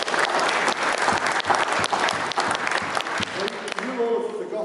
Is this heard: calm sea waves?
no